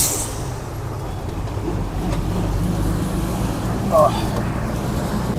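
Steady low rumble of a public bus riding through Sri Lanka between Kandy and Nuwara Eliya, a constant engine and road drone with a brief rattle near the end, voices faintly under it.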